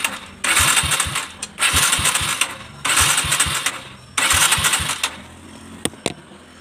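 A Kawasaki KLX 150 motorcycle engine is cranked with the starter in four loud bursts separated by pauses. Each attempt whirs and sputters briefly without catching, and a few small metallic clicks follow at the end.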